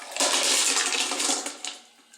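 Tumbled Petoskey stones are rinsed under running water, a loud rushing splash that gradually tapers off into quieter trickles and drips.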